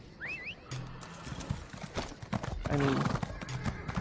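Rapid hoofbeats of a horse galloping in the video game Elder Scrolls Online, with whinnies and neighs over the clip-clop, someone briefly talking.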